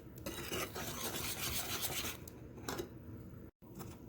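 Eggs being whisked into brownie batter, a continuous close scraping and rasping of the whisk against the bowl, dipping briefly to silence near the end before resuming.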